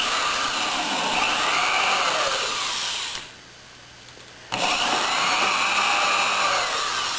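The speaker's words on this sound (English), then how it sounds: "So now I'm going to go ahead and drill these out." A power drill whirs in sustained bursts, drilling holes in a Shad SH-50 motorcycle top case, with a brief quiet pause in the middle before the drilling resumes.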